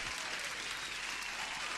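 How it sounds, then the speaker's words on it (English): A burst of applause plays as a sound effect, a steady wash of clapping that stays even and moderately loud throughout, with no speech over it. "And by the way, applause."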